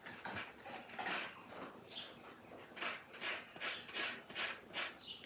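Repeated scraping rasps of two lemons being zested over a grater, coming in short rhythmic strokes that are close and moderately loud.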